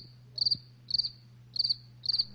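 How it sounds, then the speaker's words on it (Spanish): Cricket chirping used as a sound-effect gag for awkward silence: four short trilled bursts evenly spaced about half a second apart, clear and alone over a faint low hum. "Efectivamente, los grillos, un silencio absoluto y embarazoso"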